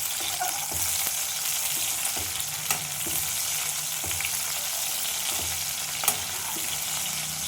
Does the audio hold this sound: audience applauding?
no